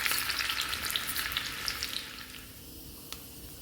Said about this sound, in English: I also fried some chopped garlic